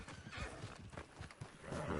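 A horse in the video game Red Dead Redemption Online whinnies over clip-clopping hooves, faint and somewhat distant, with a few irregular hoof thuds.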